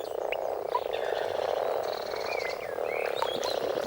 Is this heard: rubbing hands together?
no